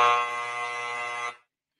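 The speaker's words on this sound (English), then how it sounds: "Give them the buzzer." Buzzer sound effect: a single loud, harsh, flat electronic buzz held for just over a second and then cut off abruptly.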